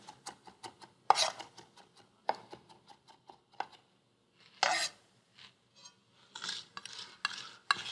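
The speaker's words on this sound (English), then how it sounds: "I'm even going to take the side of my knife and turn this into a paste" A knife blade scraping and mashing garlic into a paste on a cutting board, a run of quick rasping strokes, then a pause, then several louder, longer scrapes up close.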